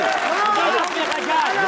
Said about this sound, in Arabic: شنو التصفيق شيخنا؟